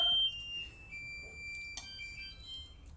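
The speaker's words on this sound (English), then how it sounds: "that was the timer." A kitchen timer goes off in a home kitchen during cooking, a steady high electronic beeping tone that holds across the moment with a brief louder burst at the very start, no talking over it.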